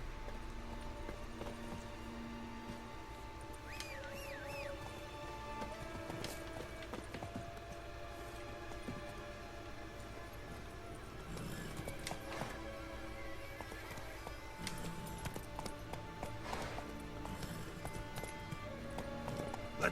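A horse's hooves clip-clop steadily in The Witcher 3 video game, with whinnies and light game ambience around the gait, fairly close and continuous.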